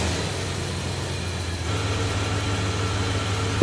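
A car engine runs briefly during a DIY transmission fluid flush, a low, steady idling hum with a slight shift partway through and a small knock at the end, without talk.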